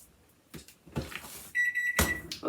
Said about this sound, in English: there's our timer